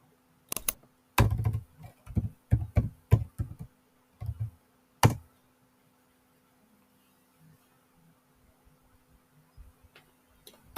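Someone typing a title on a computer keyboard: a quick burst of close, distinct key clicks for about five seconds, then near silence over a low mains hum with a few faint taps.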